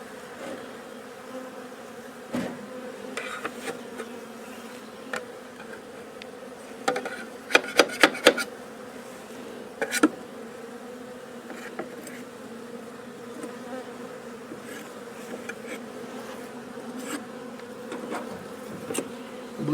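Honey bees swarm around a hive during hive moving and dividing, a steady close buzzing drone with individual bees flying past and a few brief clicks and knocks, with no voices.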